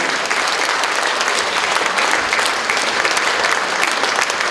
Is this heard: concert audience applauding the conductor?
yes